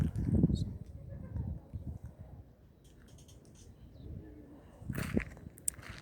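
Faint birds call and coo softly in a quiet outdoor setting at Göreme Open Air Museum, Nevşehir, with low background rumble and a brief louder chirp near the end.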